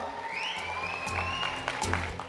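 An audience applauds at the Thug Life film trailer launch event: steady, dense clapping from a crowd in a hall, continuous and fairly even throughout, with a few faint tonal sounds over it.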